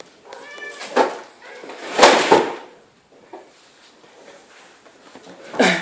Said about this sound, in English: I got a pesky cat.